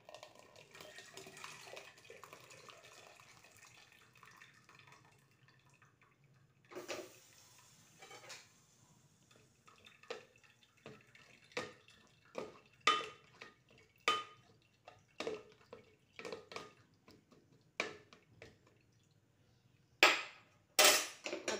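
Homemade cranberry juice is poured off the stove and strained through a strainer: a steady rush of pouring liquid, then a run of close, sharp clinks and knocks of a pot and utensils.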